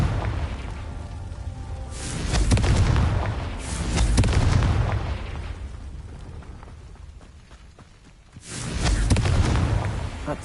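Confringo blasting spell cast in Hogwarts Legacy, a series of heavy booming explosions swelling and fading in deep rolling waves, loud and close, with crackling debris between blasts.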